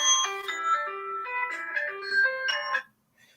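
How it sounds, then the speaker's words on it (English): A mobile phone ringtone plays a bright electronic melody of quick, chiming tones for about three seconds before stopping, heard alone and fairly close. "My phone ringing."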